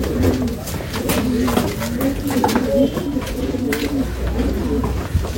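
Rampuri pigeons coo repeatedly up close, a run of throaty, rolling calls over a murmur of background noise.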